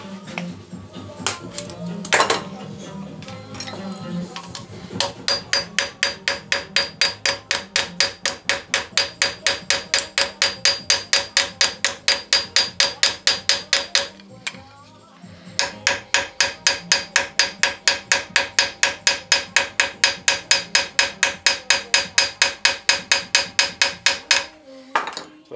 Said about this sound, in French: Je laisse dépasser un petit peu de métal de chaque côté pour pouvoir riveter